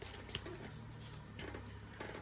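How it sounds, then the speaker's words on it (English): A tarot deck gets one last shuffle, giving a quiet, steady papery riffle and rustle with a couple of sharper snaps, heard close against a faint room hum. "we're going to give this deck one final shuffle"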